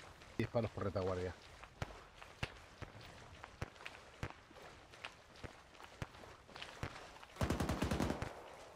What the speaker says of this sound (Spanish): Disparos por retaguardia